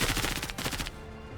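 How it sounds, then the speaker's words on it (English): Rapid assault rifle fire in the Menace video game, a fast burst of closely spaced shots for most of a second before cutting off into quieter background ambience. "We only got 3 shots with the assault rifle."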